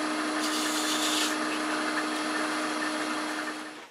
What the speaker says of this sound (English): Go ahead and take some fine grit sandpaper,